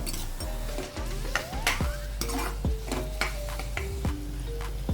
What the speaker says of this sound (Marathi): आता हे व्यवस्थित नुसतं तेलामध्ये एक ते एक ते दोन मिनिट फक्त हे फ्राय करून घ्यायचे